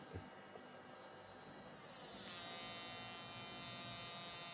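Homemade electric fish-shocking circuit giving off a steady electric buzz with a dense whine of overtones, close and continuous, stepping up abruptly to a louder, harsher pitch partway through.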